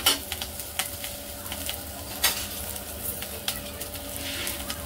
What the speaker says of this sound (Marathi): कोथिंबीर पण आपण हलकीशी याच्यावर परतून घेऊया